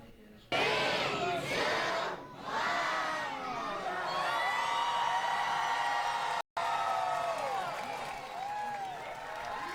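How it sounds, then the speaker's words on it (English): Crowd cheering and shouting at a rocket launch watch party at the Columbia Memorial Space Center in Downey, loud and sustained excited whoops and screams with a brief drop partway through. "There was so much cheering, so much excitement."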